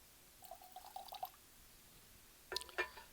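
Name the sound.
splash of water poured into a glass of whiskey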